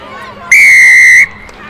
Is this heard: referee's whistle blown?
yes